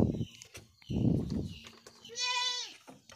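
Goats kept in a pen on a small farm, with a clear nearby bleat late on, after rustling and shuffling movement and someone talking briefly beforehand.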